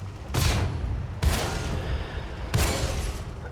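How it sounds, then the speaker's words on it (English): Three heavy tank gun blasts in a video game, each a loud sharp boom with a long rumbling tail, spaced about a second apart. "you drive forward, you fire the gun"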